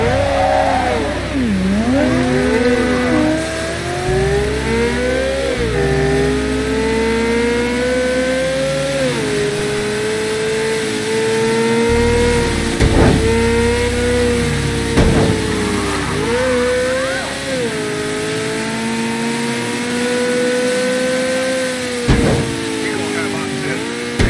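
A car engine in Mafia III revs and drones steadily for the whole stretch, pitch rising and falling with throttle changes, with occasional sharp knocks and music or voices mixed in.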